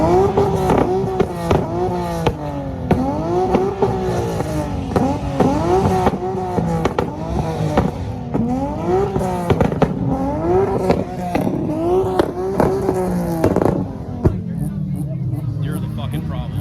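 Cars at a car meet rev hard on two-step launch control, firing repeated sharp popping bangs over rising and falling engine wails, loud and close, with people talking throughout.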